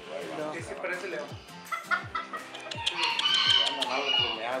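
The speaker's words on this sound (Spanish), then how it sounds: "Están viendo puro gallo campeón." Silver Quail gamecocks at a cockfighting farm, several roosters crowing and clucking close by in a repeated, overlapping rhythm, with chatter and other bird calls filling the background.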